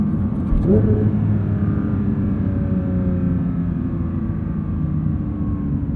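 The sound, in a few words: sports car engine rev-matching downshift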